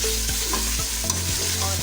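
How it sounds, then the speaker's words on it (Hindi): Onions with ginger and garlic stir-fried in a pan, a spoon scraping in steady strokes roughly every quarter second over a constant close sizzle, with no voices. "इसको हम चलाते जाएंगे साथ साथ"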